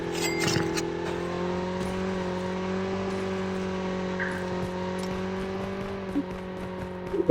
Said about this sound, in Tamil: 4 பேர் போற வண்டி இருக்கு.